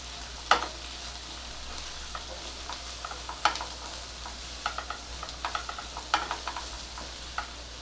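Onion softens in a pan for a paneer and capsicum dish, a low quiet sizzle running steadily beneath scattered sharp clicks and scrapes of a spatula stirring, with no one speaking.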